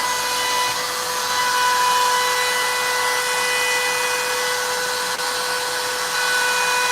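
Power tool carving a wooden sign indoors, a constant high-pitched whirring buzz with steady tonal whine, loud and unbroken for the whole stretch, no talking.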